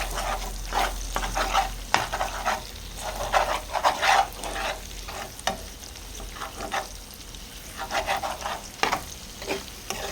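Egg pieces and chopped ivy gourd are stirred and fried in a pan, with repeated scraping strokes over a steady low sizzle, close and moderately loud, no voices.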